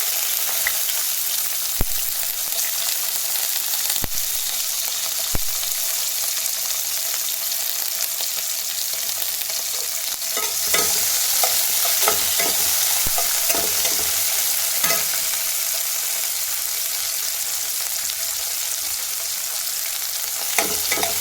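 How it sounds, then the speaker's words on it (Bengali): Bitter gourd frying in oil gives a steady close sizzle, with scraping stirs and occasional knocks from a utensil against the pan and no speech. "উচ্ছেগুলো খুব কড়া করে ভাজবো না, একটু নরম করেই ভাজবো।"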